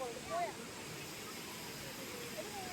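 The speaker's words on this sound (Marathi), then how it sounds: "त्या वॉटरफॉलचा तो साऊंड" Steady broadband rush of a waterfall near a temple at a medical camp site, continuous and even throughout, with a few faint whistling tones on top.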